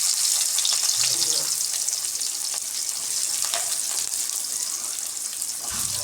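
Onions frying in hot oil with mustard seeds in a kadai for goat liver fry, a loud, continuous close-up sizzle and crackle filling the whole stretch without pause.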